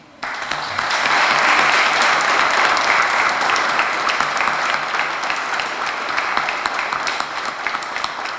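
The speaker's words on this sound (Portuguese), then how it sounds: "para eles a nossa gratidão e a nossa salva de palmas" Sustained applause from a large crowd fills a church during Mass, steady and dense after a sudden start, with no talking over it.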